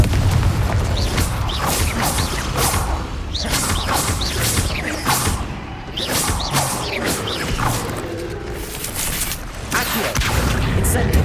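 Incendio and Confringo spell blasts in Hogwarts Legacy, a busy run of whooshing casts, booms and crashing impacts in rapid succession with a brief lull midway, dense combat noise throughout.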